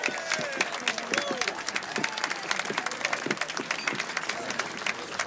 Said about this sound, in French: on l'applaudit très fort pour qu'elle sache qu'on l'aime